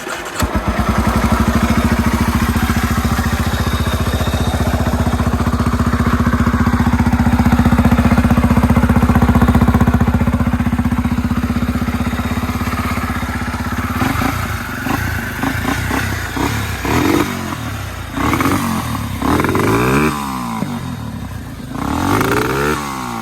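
Yamaha Raptor 350 quad engine after a top-end rebuild, running loudly and steadily at idle for about fourteen seconds, then revved repeatedly in sharp bursts with clattering mechanical noise.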